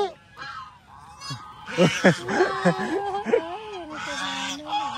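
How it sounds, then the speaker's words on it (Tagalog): A flock of white geese honks on a farm in the provinces, with a string of loud, close honks overlapping one another over several seconds. "Nakakatawa yung mga gansa"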